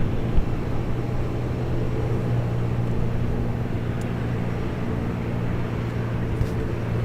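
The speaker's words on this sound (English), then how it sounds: "this is Southwest Airlines Flight 1084, about to depart to Austin. That's a 737-700." Southwest Airlines Boeing 737-700 departing Long Beach runway 26 left, a steady, continuous jet engine roar with a low droning hum that holds level throughout, heard from a distance.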